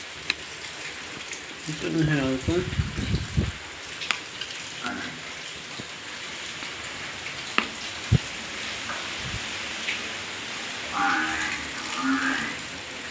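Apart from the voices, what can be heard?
heavy rain falling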